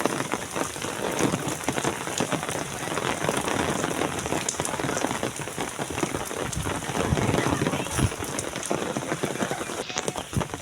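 Heavy rain falls during Navratri, pattering steadily and loudly on surfaces close by, with scattered sharper drops and a low rumble underneath, continuous throughout and with no one speaking.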